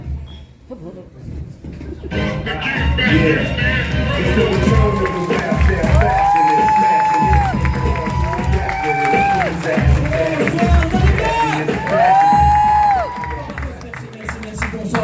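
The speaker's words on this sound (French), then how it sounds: "je veux un tonnerre d'applaudissements" A theatre crowd at a French live comedy show cheers loudly and applauds in a sustained roar, with whoops and shouts rising over the clapping for the full stretch.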